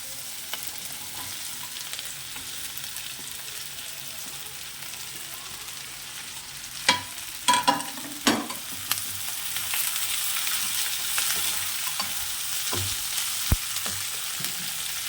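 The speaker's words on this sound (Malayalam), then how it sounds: "ഇനി നമുക്ക് മുരിങ്ങക്കോൾ കായ ഇട്ട് കൊടുക്കാം" Drumstick pods are stirred into a hot pan for a thoren, a soft continuous sizzle and frying hiss broken by a few sharp clatters of a spoon scraping the pan midway.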